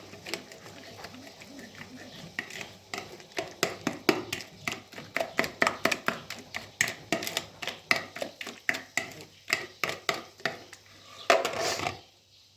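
Chicken being mixed by hand with oil and marinade ingredients in a bowl, a steady run of wet slaps and clatters against the dish, close and fairly loud, ending in a brief louder scrape.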